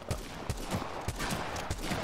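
Rapid gunshots fire in bursts at practice targets in the Apex Legends firing range, quick cracks spaced a few per second, moderately loud with no talking.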